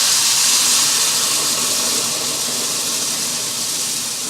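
Milk poured into a hot pan of cooked flour hisses and steams loudly and steadily from start to finish, a dense broadband sizzle that eases off slightly toward the end.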